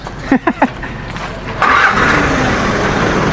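A vehicle engine turns over with a few quick cranking bursts, catches after a short pause, and settles into a steady running hum, close and fairly loud.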